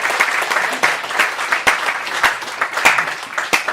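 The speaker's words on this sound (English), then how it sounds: "give that applause stronger" Church congregation clapping in a dense, uneven rhythm with sharp individual claps standing out, continuous and fairly close throughout.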